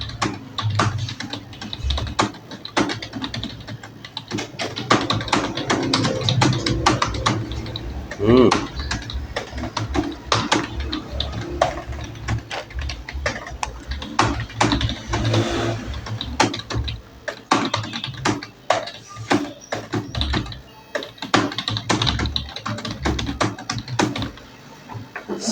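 Fast home-row typing on a computer keyboard during a 90 WPM typing test: dense, rapid key clatter in quick bursts, up close and continuing steadily with brief pauses throughout.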